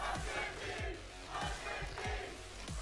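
A big crowd at an esports arena during a Loud versus 100 Thieves match chants in a rhythmic battle cry, repeated surging shouts about every half second, heard from a distance with a reverberant hall sound.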